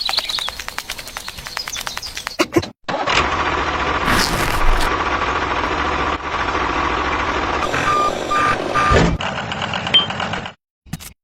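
A miniature construction vehicle engine hums continuously at close range while a reversing alarm beeps in a short repeated series, with bird chirps and brief clicks around it.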